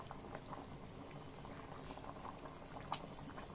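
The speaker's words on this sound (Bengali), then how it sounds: "বেশ কিছুক্ষণ ধরে একটু ফুটিয়ে নেব" A pot of rui fish curry that has already thickened simmers and boils, giving soft, quiet, continuous bubbling and popping with scattered sharper blips, heard close up with no voices.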